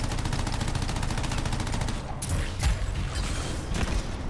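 Turrets in the Anthem video game fire in a rapid, steady, machine-gun-like rattle, broken later by several heavier impacts amid mechanical clatter.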